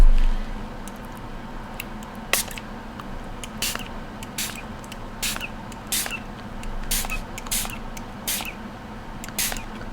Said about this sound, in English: Little spray bottles.